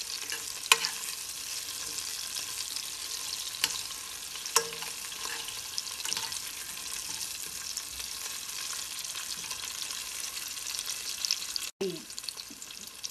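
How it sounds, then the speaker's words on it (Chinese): Star anise, ginger and onion stir-fried in a hot wok, a steady close sizzle with scraping stirs and occasional spatula knocks, a louder clank near the end, no talking. "八角放进去爆香。"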